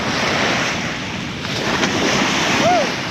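Steady wind rushes and buffets the microphone at Papaz Bay in Urla, İzmir, with waves washing underneath; no talking.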